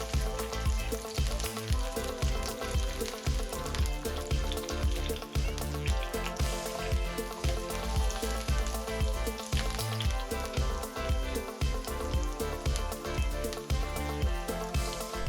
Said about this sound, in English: let's chill out for a second and watch the zucchini sizzle up, get golden brown